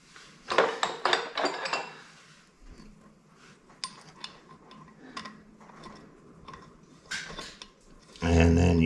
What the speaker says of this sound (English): And then you put this brass washer on here.